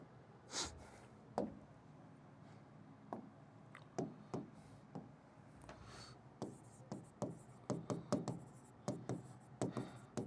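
Chalk or marker taps and scratches on a board during a GK class, heard as sparse, short clicks that quicken into a busier run of strokes toward the end, close and without talk.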